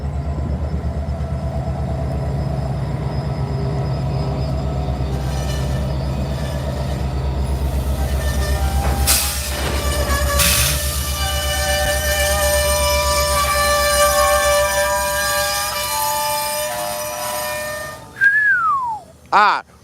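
A GP20C-ECO diesel locomotive rumbles steadily past close by, with long horn blasts midway and a brief squeal of wheels near the end.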